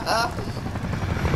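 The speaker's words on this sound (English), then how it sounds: "Hit him with the chopper." A helicopter in the video game Call of Duty: Modern Warfare whirs loudly for over a second, a dense rotor rumble with a brief bright burst at the start.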